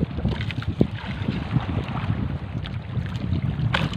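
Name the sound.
big sea waves around a fishing boat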